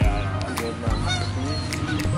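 Visiting geese at a blitzball field give repeated nasal honks, about three close, loud calls spread over a couple of seconds against a continuous outdoor hum.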